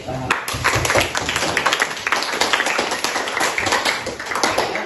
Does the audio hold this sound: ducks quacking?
no